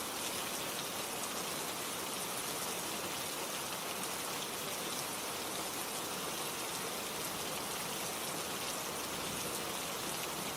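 Steady, dense rain falls continuously, a close and even hiss of drops with no pauses and no voices.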